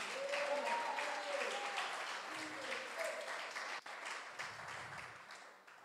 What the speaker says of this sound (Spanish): Aplaude a Jesús.